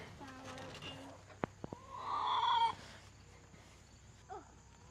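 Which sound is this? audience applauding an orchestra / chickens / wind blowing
chickens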